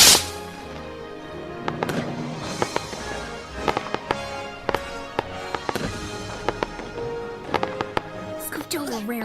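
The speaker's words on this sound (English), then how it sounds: "Does any pony else hear fireworks?" Fireworks going off in a cartoon scene, a rapid series of sharp cracks and pops with crackling bursts across the stretch, loud and close, mixed with characters talking.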